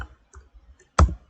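A few sparse computer keyboard keystrokes as commands are typed, soft isolated clicks ending in one sharper, louder key press, close and dry with no talk.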